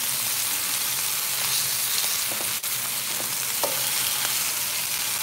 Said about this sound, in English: Let's go to this hot spot. Get that sear on there.